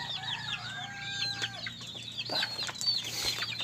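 Pet chickens cluck and chatter at feeding time, several birds calling in quick overlapping phrases close by, with no speech.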